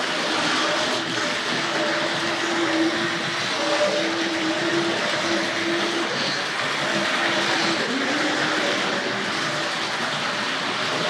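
A Hornby R.258 Princess Elizabeth model locomotive from the early 1970s runs steadily around a layout, a continuous whirring motor hum with faint rail rumble and a few tonal whines, no talk.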